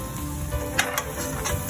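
Butter melting in a pan while cooking buttered scallops, a soft steady sizzle under the background noise, with a few brighter crackles and pops.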